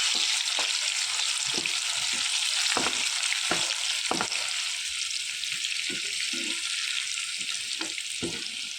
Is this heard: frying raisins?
yes